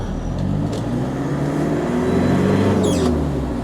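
A Nissan Big M pickup engine idles and revs steadily up close while the gears are shifted, a constant low mechanical hum with faint clicks from the shifter and no speech.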